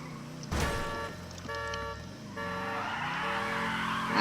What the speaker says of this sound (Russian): Каранчы кабында двигатель тавышы,